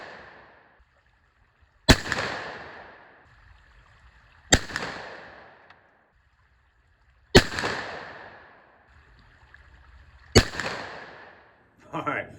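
Shotgun firing Remington Slugger slugs through an extra full choke outdoors, four loud separate blasts a few seconds apart, each with a sharp crack and a fading echo.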